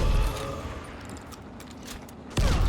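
The Ox Cannon weapon in the zombie game Dying Light fires a heavy close blast at the start, then short mechanical clatter follows and a second loud boom hits near the end, with no talking.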